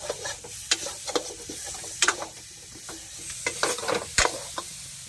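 Cumin and ajwain seeds sizzle in hot oil for kaithal (wood apple) pickle, with a steady frying hiss broken by repeated sharp scrapes and clinks of a spoon stirring the pan, close and clear.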